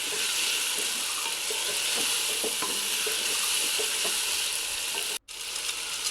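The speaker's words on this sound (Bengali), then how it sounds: "দিয়ে দিলাম একটু লবণ, লবণটা একটু কম হয়েছে এই জন্য। দিয়ে আবার ভালো করে কিছুক্ষণ কষিয়ে নিব।" Curry with green chilies and salt stir-fried in a hot pan gives a steady, loud, close sizzle, with faint scraping stirs running beneath it and a brief cut-out near the end.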